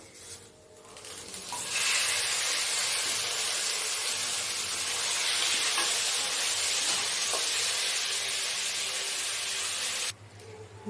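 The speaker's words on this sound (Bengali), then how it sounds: "চিকেনটা আমি হালকা ভেজে নিয়েছি" Chicken pieces fry in a pan with ginger and garlic for chicken soup, giving a loud, continuous sizzle and hiss that swells after a quiet start and stops abruptly near the end.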